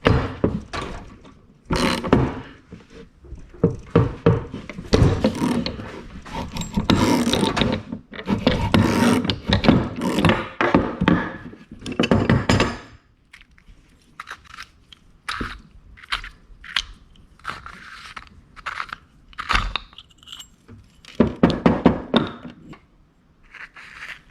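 A tool cuts threads inside a diesel injector cup on a 7.3 PowerStroke engine, giving bursts of gritty grinding and ratcheting scrapes, close by, with pauses and quieter clicking stretches between.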